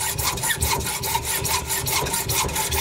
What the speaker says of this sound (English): it only takes moments to hacksaw it through